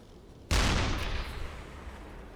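A submarine deck gun fires a single heavy shot in the UBOAT WW2 German submarine simulator, a sudden loud boom that rolls off into a long fading rumble over faint background ambience.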